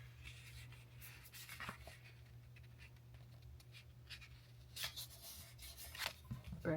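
Close, quiet rubbing and scratching as a tool is burnished along the folds of a paper pop-up box card, in short strokes with a few louder swipes near the end, and a soft voice in places.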